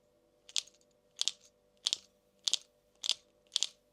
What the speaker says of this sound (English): when you hard jerk that bait, when you make it go to the side, you get that clack,